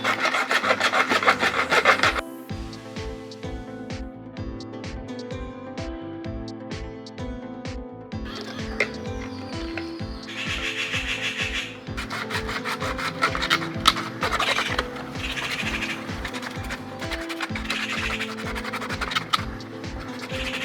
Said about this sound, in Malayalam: അപ്പോൾ ആദ്യമായിട്ട് നമുക്ക് ഇതിൻ്റെ രണ്ട് എൻഡ് ഒന്ന് കട്ട് ചെയ്ത് ലെവൽ ചെയ്തെടുക്കാം.